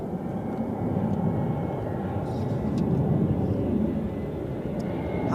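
A Lufthansa Airbus A319 arriving from Frankfurt at Zurich Airport makes a steady, moderately loud jet rumble that stays even from start to finish, with a voice faintly beneath it.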